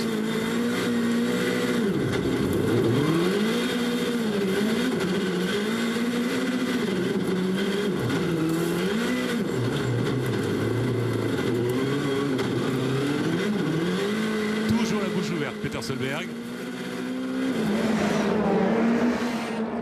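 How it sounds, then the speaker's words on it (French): Volkswagen Polo rallycross car driven by a double world champion on an onboard lap at Montalegre, its engine roaring loud and continuous, rising and falling in pitch through gear changes and lifts, with a voice briefly speaking. "Vous avez entendu un petit peu le bruit du moteur"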